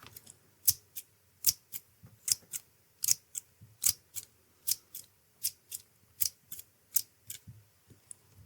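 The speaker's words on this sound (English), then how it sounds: "I want you to count how many times I use the scissors" Scissors snip again and again as an ASMR trigger, about fifteen crisp, close metallic cuts in a steady, evenly spaced rhythm over quiet background, with no talking between them.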